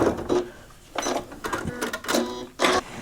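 A sewing machine runs a short back stitch on quilt binding, with several quick bursts of mechanical whirring and clatter separated by brief pauses, close and fairly loud.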